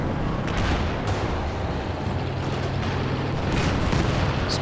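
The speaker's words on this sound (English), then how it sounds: "He drops the artillery." Artillery barrage in Company of Heroes 2, repeated heavy thuds and blasts rolling over a constant roar of battle, loud and dense throughout.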